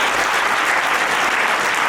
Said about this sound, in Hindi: सब इनके लिए तालियां बजाएं।